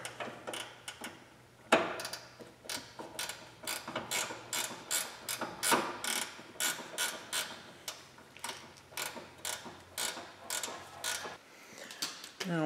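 A ratchet wrench clicks in a steady rapid rhythm while tightening the nut on a Jeep Cherokee track bar, close and fairly loud, with a brief pause and a scrape near the start.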